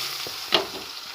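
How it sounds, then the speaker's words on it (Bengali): Chopped onion and tomato go together into the same oil used for frying fish, giving a brief steady sizzle with one sharper scrape or stir in the middle. "ওই একই তেলেতে আমি পেঁয়াজ কুচো টমেটো কুচো একসাথে দিয়ে"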